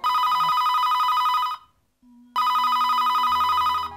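A telephone ringtone plays in a Bundeli comedy song sequence, loud and close: a steady electronic ring runs about one and a half seconds, breaks off into a short pause, then sounds again.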